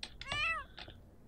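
A pet cat in The Sims 4 Cats and Dogs gives a single clear, rising-then-falling meow, close and alone, followed by a softer short chirp.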